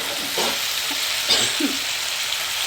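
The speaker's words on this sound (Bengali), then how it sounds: "চারমগজ আর গোটা গরম মশলা ফোড়ন দিয়েছি নিরামিষের মধ্যে" Whole spices and char magaj (melon seeds) crackle as they are tempered in hot oil for a vegetarian potol-alu curry, a steady close sizzle with a few brief louder pops and no talk.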